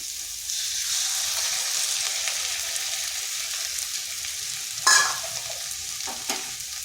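Two eggs frying in a pan with spring onion greens, a steady close sizzle with a brief sharper crackle and scrape partway through as they are stirred.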